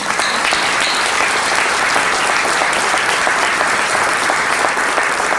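Steady, dense applause from a large crowd, sustained at an even level throughout with no voices standing out.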